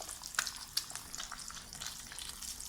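Egg scrambling in hot oil in a wok, with a steady low sizzle and sharp spatula scrapes and taps against the pan, no voices.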